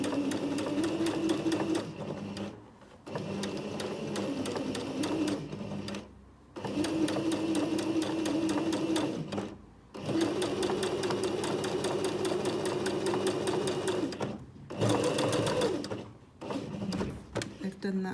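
Domestic sewing machine running ease-stitch rows around the cap of a fabric sleeve, a steady mechanical whir in several long bursts with brief pauses between them as the fabric is turned.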